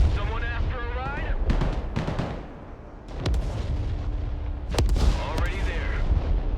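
Mortar and artillery fire in the military strategy game Broken Arrow, with loud booms and bursts repeating through the mix and game voices speaking over them.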